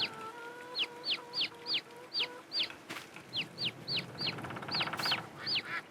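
Chickens in a Farming Simulator game cluck and chirp in a steady string of short, sharp calls, with a faint steady hum beneath and a brief burst of noise partway through.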